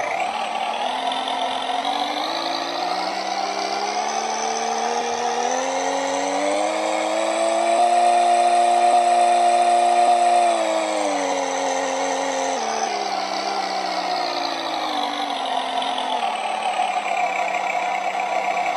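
An electronic speaker plays a simulated motorcycle exhaust rumble, steady and droning, rising in pitch as if revving, then settling back to an idle.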